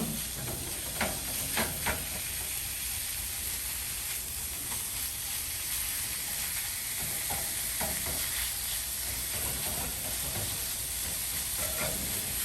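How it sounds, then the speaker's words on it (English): Ground beef, about ten ounces, sizzles and crackles steadily as it cooks down in a hot pan, with occasional scraping stir sounds and brief pops over a constant frying hiss. "I'm gonna add about 10 ounces of ground beef or Hamburg. And we're just gonna start cooking this down."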